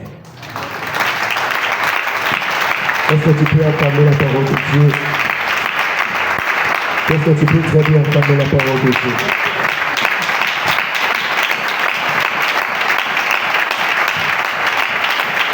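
A church congregation at a morning prayer chain service applauding the word of God, with loud, sustained clapping and crowd noise filling the whole stretch while a voice speaks over it twice.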